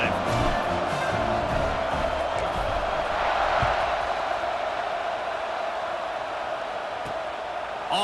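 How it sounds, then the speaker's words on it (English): Stadium crowd in the College Football 26 video game roars steadily after a touchdown drive during a kickoff, a dense broadband wash of cheering that swells briefly midway and holds loud throughout. "this crowd is feeling themselves after that last drive"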